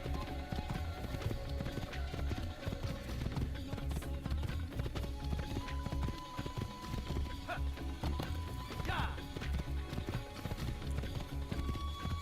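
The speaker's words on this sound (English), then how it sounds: "This horse gallops so strangely. It's like he's jumping." A horse gallops in the video game Assassin's Creed, a steady stream of rapid hoof clip-clops with a springy, jumping rhythm under game ambience, with a short whinny partway through.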